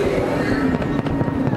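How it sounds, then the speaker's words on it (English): Fireworks bursting over the track at Daytona International Speedway after a 2017 NASCAR Cup Series race on the Fourth of July weekend, a loud, continuous crackling barrage with sharper pops landing every fraction of a second. "helping with quite a few of the fireworks on the track today"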